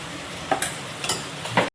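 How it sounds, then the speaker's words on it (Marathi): Green masala paste (hirva vatan) hitting hot oil with softened onions for an Agri-style stuffed crab dish: a close, soft sizzle broken by a few quick stirring scrapes, alone with no voices. "आता मी हिरवं वाटण टाकते।"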